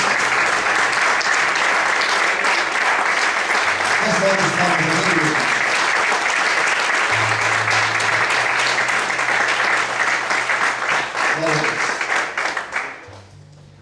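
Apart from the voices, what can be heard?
church congregation applause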